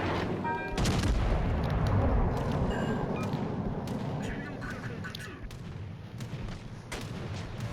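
Battleship secondary guns firing in World of Warships Legends, a loud, sustained barrage of booming reports that eases slightly over time, with a voice talking over the gunfire.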